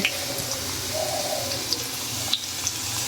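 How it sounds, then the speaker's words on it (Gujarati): Garlic tossed into hot oil for a tempering hisses with a steady broadband sizzle, broken by a few sharp crackles and pops in the pan. "જો આપણે લસણ સરસ કકડાટી બોલાવે છે"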